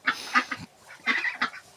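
Farm ducks and a crested drake calling nearby in loud, harsh, honking quacks, two clustered bursts separated by a short pause, with no voices.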